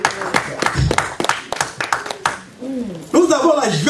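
Church congregation at an evangelical revival service clapping in acclamation, sharp claps in a loose uneven rhythm near and loud, with singing and voices rising over them toward the end.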